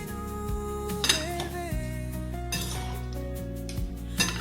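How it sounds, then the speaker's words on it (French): Sliced tomatoes stirred for a fresh salad in a bowl, a few light clinks and scrapes of a utensil against the dish at irregular moments, playing under steady background music. "je vais mélanger une première fois avant de rajouter la mozzarella et les bâtonnets de surimi"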